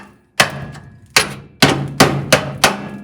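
Six heavy metallic blows strike a hollow, very rusty panel of a 1958 Volkswagen bus body at irregular intervals, each ringing briefly before fading, loud and close.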